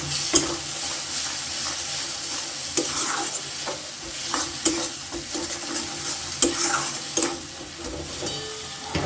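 Beaten egg mixture stirred and frying in a pan for egg tadka, with a steady sizzle and hiss under frequent scraping and tapping of a spoon, continuous and fairly close, no voices.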